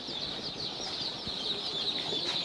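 Chicks in a hatchery keep up a continuous high chorus of thin peeping cheeps, fairly faint, with no voices.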